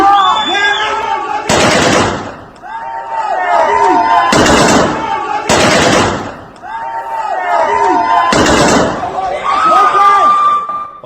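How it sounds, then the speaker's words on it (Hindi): Gunfire during street protests in Iran: four heavy, sharp bangs spaced a couple of seconds apart, each ringing out over a steady background of crowd voices and shouting. "फायरिंग हो रही है, खुलेआम लोग गोलियां चला रहे हैं"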